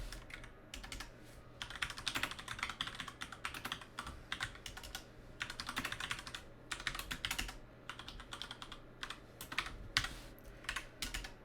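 Fast bursts of typing on a computer keyboard while writing a program in Visual Studio, quiet, close clicks arriving in uneven clusters separated by short pauses, with no talking.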